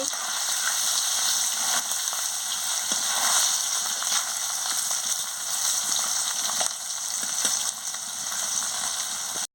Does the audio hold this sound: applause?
no